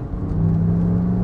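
A Lexus RX500h F-Sport+ 2025 engine hums with a steady, close whirring drone that swells slightly in volume, with no talking over it.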